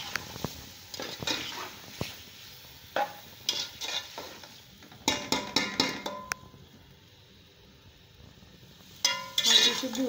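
Chicken pulao masala with garlic paste being sautéed in a pot, heard as intermittent stirring scrapes and soft sizzling with clinks of a spoon against the metal, louder bursts near the middle and end.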